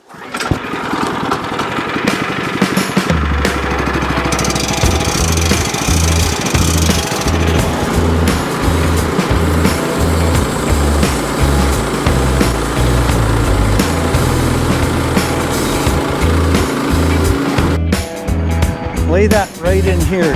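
A loud, steady engine drones throughout while the first cut is made on a gnarly, ugly log, low harmonic bands pulsing under the run, with voices talking over it.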